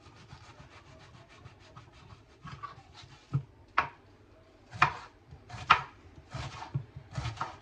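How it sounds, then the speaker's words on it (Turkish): Knife chopping onions on a board in irregular bursts of sharp thuds, close by, with a faint rustle between strikes and no talking. "Soğanlarımı şöyle küçük küçük doğruyorum."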